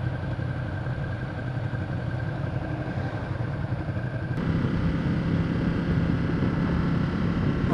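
A Ducati Monster 1200 motorcycle hums along in a steady, loud engine drone that shifts tone partway through as it is ridden.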